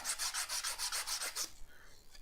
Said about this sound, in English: Get yourself a little bit of sanding paper and rub it on the shaft